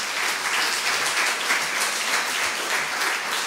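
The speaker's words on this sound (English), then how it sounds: "a big clap of hands for Claudio, please" An audience at a health care conference claps for a speaker, a dense, steady round of applause filling the room without pause for several seconds, with no talking over it.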